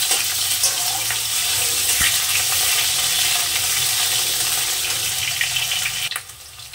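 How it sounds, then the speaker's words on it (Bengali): Potatoes frying lightly in oil in a pan give a steady, close hiss and sizzle that runs evenly before dropping away near the end. "সর্বপ্রথম আলু কটা একটু হালকা করে ভেজে নেব"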